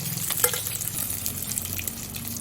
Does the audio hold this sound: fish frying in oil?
yes